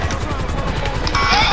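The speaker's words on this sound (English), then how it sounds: "j'ai pété l'hélico" A helicopter is blown apart in Grand Theft Auto 5, a loud burst of crashing, rumbling noise that swells toward the end, with a voice talking over it.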